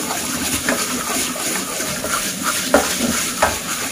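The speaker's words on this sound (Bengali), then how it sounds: "একটু সর্ষেটা ধুই।" White and black mustard seeds are swished and rinsed in water in a bowl, making a close, steady wet sloshing with a few sharper splashes and clinks.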